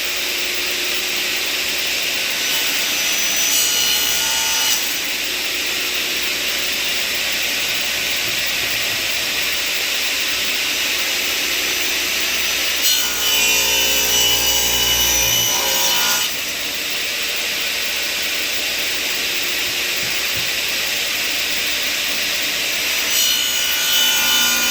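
Radial arm saw cutting through a wooden corbel with its fence on the far side, a loud, continuous whining rasp lasting the whole stretch, briefly shifting tone a few times as the blade moves through the wood.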